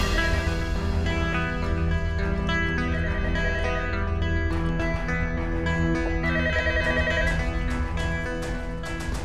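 A telephone rings continuously with a bright electronic tone, loud and steady throughout, with no voices.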